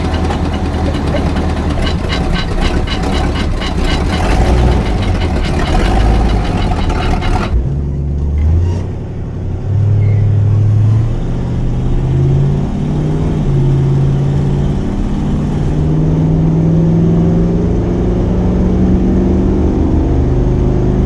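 A 1964½ Ford Mustang idles loudly up close on an early-morning drive to an old Ford rally, then its engine note rises and falls through repeated revs while someone talks over it.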